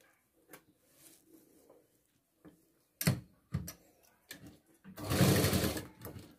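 A domestic sewing machine runs a straight stitch, attaching lining fabric to the neck edge of a round-neck garment, in short irregular bursts with clicks and pauses, ending in a longer louder run, close and with no talk.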